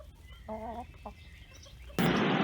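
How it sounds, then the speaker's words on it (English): Chickens at a petting zoo farm, heard as a short clear cluck followed by a brief second call, close but moderate in level, and then a sudden burst of loud broadband noise. "I hope you enjoyed meeting the chickens."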